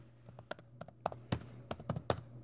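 Someone types on a computer keyboard: about a dozen crisp, close clicks in an irregular rhythm, with no talking.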